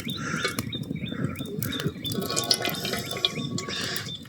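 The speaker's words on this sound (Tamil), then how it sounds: "இப்போ நாம் எண்ணெய் ஊற்றிடலாம்." Cooking oil is poured into a pan outdoors, giving a soft, continuous liquid trickle with faint drips, while birds chirp intermittently nearby.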